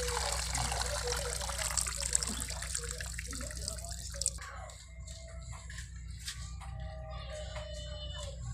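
Saag greens go into a pot of boiling water for sarson ka saag in a village kitchen in Punjab: a soft splashing rush gives way to scattered drips and trickles over a low steady hum, faint and close.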